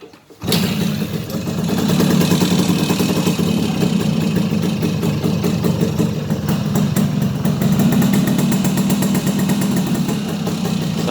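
Classic vehicle engine started after a brief silence, catching almost immediately and settling into a steady, close, loud idle with a rough, throbbing low rumble for the rest of the clip.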